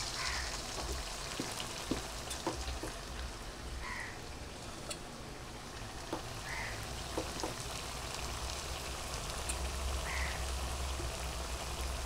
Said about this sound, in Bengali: কতক্ষণ লাগবে টাইম এটা ভাজতে?